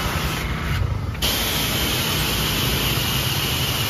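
A pressure washer with a Comet pump head and 18mm ceramic pistons sprays through its gun in a loud, continuous close-up hiss, with a brief change in tone near the start before the steady jet resumes.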